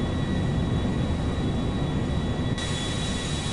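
A passenger airliner in the video game GTA V takes off with a steady, dense jet engine roar and broadband rumble. Loud and constant across the short stretch, with no voices.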